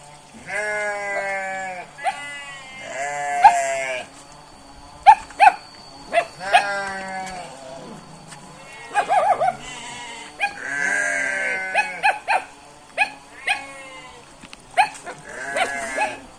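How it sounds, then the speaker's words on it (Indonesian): Goats bleat repeatedly from a village pen, several animals calling in overlapping, wavering cries at close range, with a few sharper calls and some faint background noise between them. "Kapalih dituna itu aya kandang embe oge nya."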